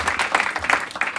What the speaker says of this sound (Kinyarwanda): we kuba wayabonye ugomba kubikomera amashyi menshi cyane